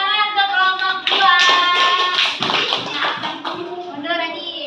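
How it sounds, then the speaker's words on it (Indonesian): Schoolchildren in a classroom clap for a group of classmates, a close burst of quick, uneven hand claps mixed with children's voices and chatter. "tepuk tangan untuk kelompok 2"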